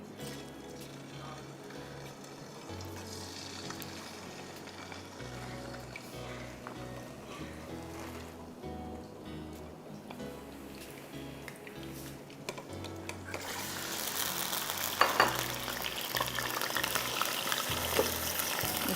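Halved tomatoes hit hot oil in a karahi, setting off a loud sizzle that swells near the end, with steady frying crackle and low background hum throughout.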